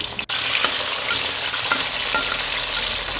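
Cut potatoes frying in oil over a very low flame, a steady dense sizzle with a few faint pops and light stirring, close and continuous, with no talk.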